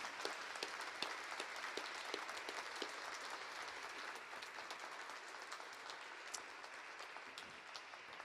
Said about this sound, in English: if you could please give a round of applause for Daniel Foose on the bass